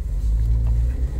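A Suzuki Jimny accelerating along a Delhi road, its engine giving a loud, continuous low rumble that holds steady throughout the short stretch, with no talking.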